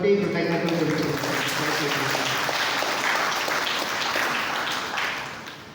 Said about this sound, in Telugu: పిల్లలందరూ కూడా గట్టిగా చప్పట్లు కొట్టి కృతజ్ఞతలు తెలుపుతున్నారు